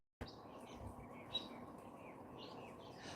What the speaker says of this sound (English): I don't know what bird that is, but that is a really loud bird